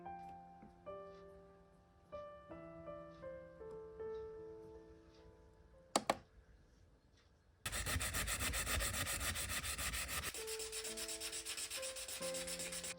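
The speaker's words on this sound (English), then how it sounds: "I sanded down all the unevenness" Sanding a resin replica hair clip to smooth away unevenness, a loud, dense rasping scrub that runs steadily for several seconds, following a stretch of quiet background music.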